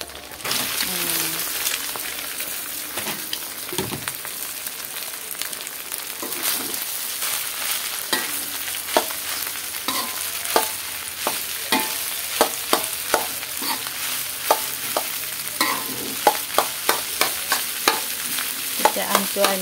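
Rice for egg fried rice being stir-fried and broken up in a pan, with a steady sizzle under repeated sharp scraping and tapping strokes of a utensil that grow more frequent toward the end.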